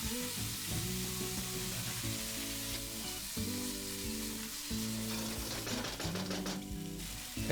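Goan Recheado masala and Maggi hot and sweet sauce fry in a pan with a faint, constant sizzle and occasional stirring, partly masked by background music.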